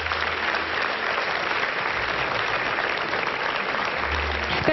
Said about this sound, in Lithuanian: Karščiausiais plojimais mes dėkojame jums.